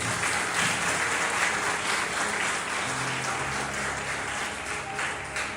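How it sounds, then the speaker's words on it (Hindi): A church congregation at a Hindi sermon claps loudly and continuously, a thick, even wash of many hands that holds steady for several seconds. "आइए प्रभु यीशु के लिए जोर से ताली बजाएं।"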